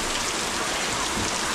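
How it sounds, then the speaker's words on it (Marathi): Heavy rain pours steadily during a rainy Konkan village outing around the Ganpati festival, a dense, constant broadband hiss of drops pounding water and surfaces, close and loud with no let-up. "खूप जोरदार पाऊस येतो खूप जोरदार पाऊस"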